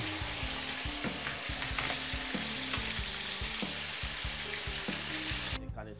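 Crispy bacon frying in a pan crackles and sizzles steadily with dense popping, close and fairly quiet, until it cuts off near the end.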